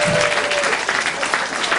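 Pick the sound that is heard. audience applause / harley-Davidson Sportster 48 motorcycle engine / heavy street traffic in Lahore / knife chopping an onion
audience applause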